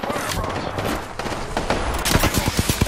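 Rapid gunfire in the video game Apex Legends, sharp shots fired in quick bursts that grow denser and louder toward the end, over a busy game mix and some speech.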